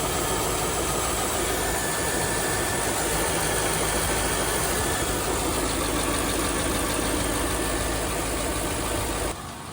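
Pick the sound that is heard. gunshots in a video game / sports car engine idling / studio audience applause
sports car engine idling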